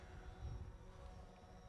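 A hovering drone gives a steady, continuous rotor and motor drone, fairly faint and unbroken, with a broad hum and no speech.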